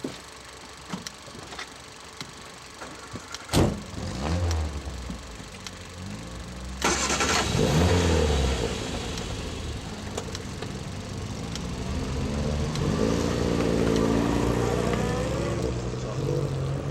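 A saloon car engine running on a road on a traffic-congested morning along Cowpit Lane, a low steady motor hum that swells and grows louder after a sharp knock midway, continuing near and steady to the end.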